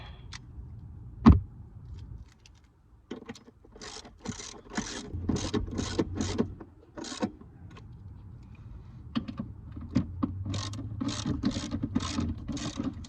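A socket wrench ratchets on seat bolts in a Subaru, sounding as several bursts of quick, close clicking separated by pauses, with a sharp knock near the start.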